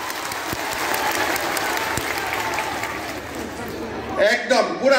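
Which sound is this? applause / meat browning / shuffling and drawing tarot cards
applause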